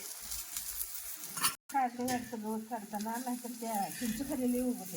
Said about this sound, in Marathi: तर एकसारखे छान भाजून घ्यायचं आहे तेल टाकतं ते